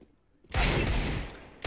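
Gunfire from a CZ pistol in a CS:GO match, a sudden loud burst of rapid shots after a quiet start, with a few sharp extra cracks near the end.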